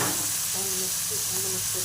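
Onions, green chillies and tomatoes sizzle steadily in hot tempering oil while being stirred, a close, continuous frying hiss with faint scraping throughout.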